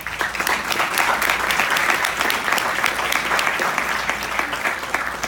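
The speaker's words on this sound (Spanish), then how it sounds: "Recibámoslas con un fuerte aplauso, por favor." An audience at a book presentation on masculinity, organized crime and violence applauds to welcome the speakers, a loud, continuous wash of many hands clapping that holds steady throughout with no talk.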